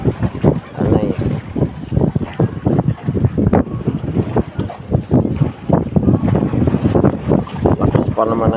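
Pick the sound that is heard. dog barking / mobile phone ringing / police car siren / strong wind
strong wind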